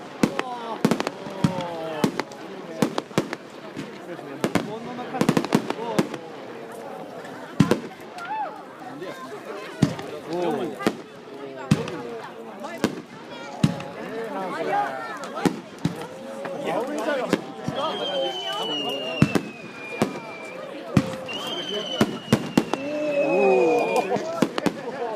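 New Year's Eve fireworks show at Kasamatsu in Nakagasa, Tsuyama, Japan, with repeated sharp bangs and crackling bursts at irregular intervals, some distant and some nearer, plus whistling rockets rising and crowd chatter throughout.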